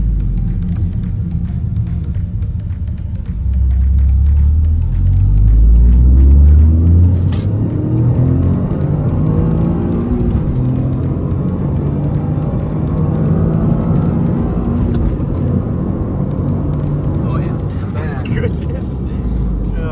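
A 2023 Toyota GR Corolla engine revs and accelerates on the road, a loud, close rumble rising in pitch through the gears with shifts between pulls, and road noise carrying on underneath.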